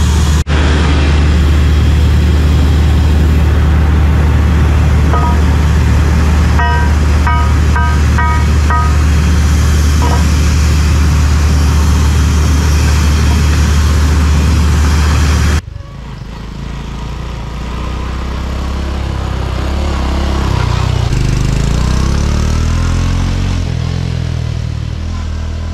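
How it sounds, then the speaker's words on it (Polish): A well-drilling rig at a jungle-edge site in Cambodia runs loud and close, its engine droning steadily with metallic clatter and a few sharp clanks, then cuts to a quieter, shifting engine hum. "No i wiercimy dalej."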